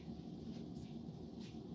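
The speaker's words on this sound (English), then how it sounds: "it's still raining" Steady rain falls as a dense, even wash of noise with low rumbling underneath, constant and moderately loud with no voices.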